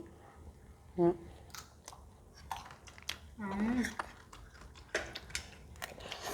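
Crisp raw eggplant dipped in sauce is bitten and chewed close up, with crunchy bites and soft clinks of dishes, while someone talks intermittently.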